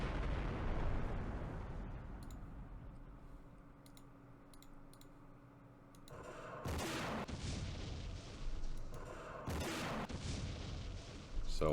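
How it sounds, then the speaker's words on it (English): Airstrike explosions from the war game Campaign Series Middle East hit as two loud, broad blasts after a quieter stretch of rumbling battle noise. No one speaks. "So we have an airstrike coming on that."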